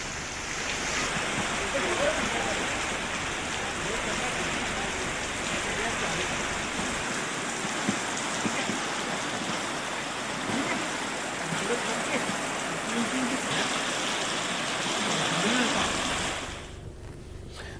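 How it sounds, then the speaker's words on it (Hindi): Torrential downpour in Mendhar, a steady broadband hiss of heavy rain running continuously for about sixteen seconds before easing off, with a faint low hum under part of it. "मेंढर में मूसलाधार बारिश हो रही है"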